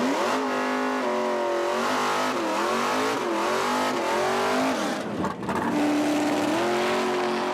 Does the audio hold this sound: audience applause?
no